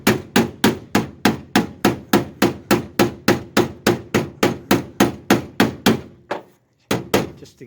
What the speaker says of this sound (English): The edge of the hammer